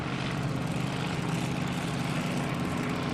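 A racing powerboat engine runs steadily while warming up on the water at a race meeting, a continuous broadband roar with a low throbbing pulse, loud and unbroken throughout.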